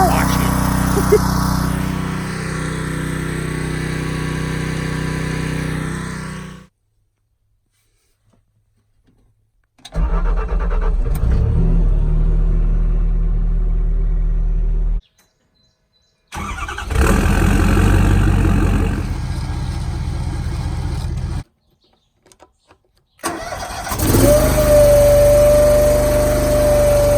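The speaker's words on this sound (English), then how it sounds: "power wash the logs" A gas pressure washer spraying firewood logs outdoors, its engine droning loudly in three long bursts broken by sudden silences, the last burst adding a steady high whine.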